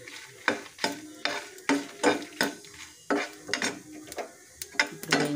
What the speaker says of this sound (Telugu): ఇప్పుడు మెంతులు, ఆవాలు వేసేసుకోవాలి. ఆవాలు, జీలకర్ర, మెంతులు